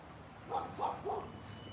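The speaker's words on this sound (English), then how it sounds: "There's a dog barking as he turns." A dog barks three times in quick succession at a moderate distance outdoors, each short bark standing clear over a low, steady background hum.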